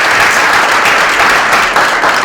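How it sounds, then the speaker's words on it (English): Steady applause from a large audience at a civic gathering in Lawrence, dense continuous clapping that fills the whole moment with no voices breaking through. "And another great applause for Rob Nemancini,"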